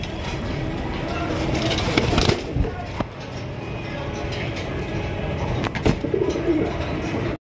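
Pairs of Lahori pigeons coo steadily at a pigeon market, their soft repeated calls filling the scene amid crowd chatter, with occasional sharper noises and passing traffic.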